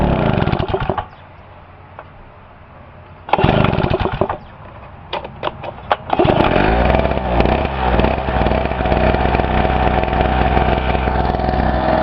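A Pulsar 1200W portable two-cycle 72cc gasoline generator sputters briefly, goes quiet, fires again with a burst, then catches and runs at a loud, steady, buzzing high idle.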